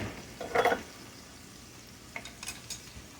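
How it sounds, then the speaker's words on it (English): Bell pepper goes into a skillet with hamburger meat: a brief loud clatter and burst of sizzle near the start, then quiet frying with a few light stirring scrapes. "I'm just going to get that in my skillet with my hamburger meat"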